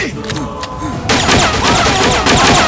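Gunfire in a dramatic Bengali film fight scene breaks out as a loud, dense burst of shots after a moment of shouting, then continues as rapid rattling fire to the end.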